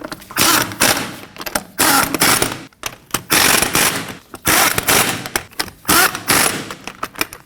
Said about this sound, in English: And we'll snug those down in a star pattern.